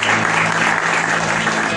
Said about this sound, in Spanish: a la palabra del Señor le damos un fuerte aplauso